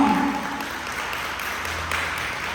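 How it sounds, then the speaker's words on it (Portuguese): A church congregation applauds during a service on inner healing, a dense, steady wash of clapping heard at moderate distance that holds evenly through the moment. "Aplausos, Senhor."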